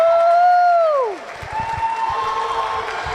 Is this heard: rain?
no